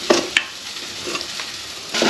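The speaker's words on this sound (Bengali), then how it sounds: "কাঁকড়াগুলো ভাজা ভাজা হয়ে এসছে" Crabs frying in a pan, a soft steady sizzle with a few clinks and scrapes of stirring.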